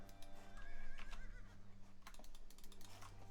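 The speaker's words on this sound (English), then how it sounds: "So some horses we have." A horse whinnies in a video game, one wavering neigh rising above a low hum, followed by light rapid clicking like keyboard taps.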